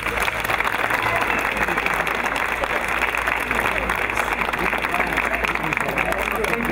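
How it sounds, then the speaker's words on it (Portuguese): A crowd at a São Pedro festival with firefighters gives a round of applause right after a blessing. The clapping is loud, dense and continuous throughout, with a faint murmur of voices mixed in. "Está benzida, uma salva de palmas"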